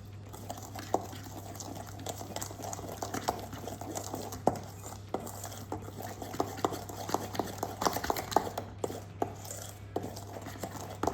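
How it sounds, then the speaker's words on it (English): Cake batter with a touch of vanilla is mixed in a ramekin, the spoon scraping and tapping in a steady, quiet rhythm over a constant low hum, with no talk. "And we'll mix it all together."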